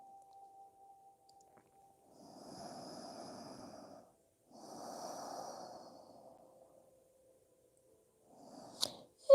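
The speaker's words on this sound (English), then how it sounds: "Breathing through your nose, inhale and exhale." Slow nasal breaths during a yoga session, two long soft exhales separated by a pause, followed by a shorter breath, quiet and close with a faint steady tone underneath.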